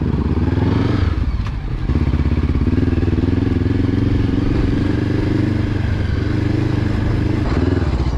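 A motorcycle rides along the road on a hot day, its engine droning loud and steady close by with wind rush and the odd clatter, dipping briefly before holding an even roar.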